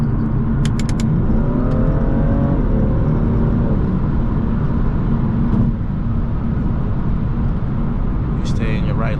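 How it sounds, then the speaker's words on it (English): Another car rips past at speed while driving on the road in a BMW F87 M2, a rising engine whoosh over loud steady cabin and road noise. "Someone's just ripping past us right now."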